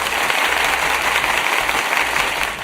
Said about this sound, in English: It's clapping.